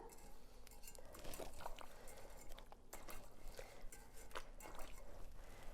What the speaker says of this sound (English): So I first wet it in water.